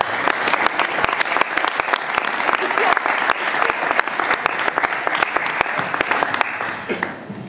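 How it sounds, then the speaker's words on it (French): An audience claps steadily through a live music battle, dense overlapping hand claps holding loud and even for several seconds before tapering slightly at the end. "Applaudissements pour Anne-Sophie."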